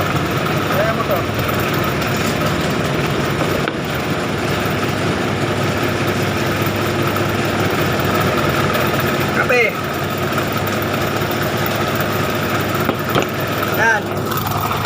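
Motorcycle engines running during a flood in heavy rain, giving a steady buzzing drone with continuous background wash; people talk nearby throughout.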